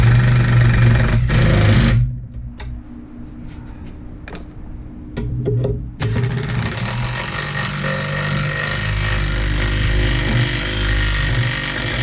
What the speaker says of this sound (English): Now we're going to use the 3/8 impact to drive this back in where we want it.